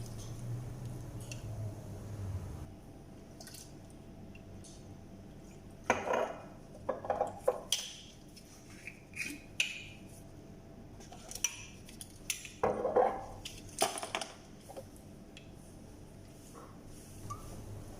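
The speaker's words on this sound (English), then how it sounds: "And now I'm making the sauce or dressing to make our salad more delicious and tasty." Garlic dressing for fattoush salad being mixed in a bowl, intermittent clinks and scrapes of utensil against dish in short irregular bursts, close and fairly quiet, no voices.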